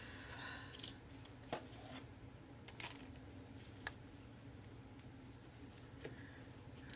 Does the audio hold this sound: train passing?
no